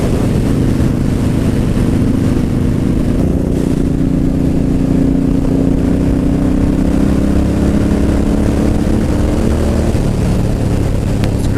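Harley-Davidson Low Rider S motorcycle accelerating hard in fifth gear at highway speed, a loud continuous engine drone with rising pitch under heavy wind rush, no talk.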